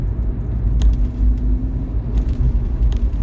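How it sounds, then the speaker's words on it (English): A car engine lugging under light throttle on a slight incline, heard as a low steady rumble from the cabin while checking torque converter clutch operation, with faint clicks and knocks over it. "Get the motor to kind of lug on a slight incline."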